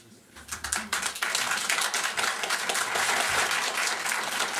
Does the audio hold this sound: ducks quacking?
no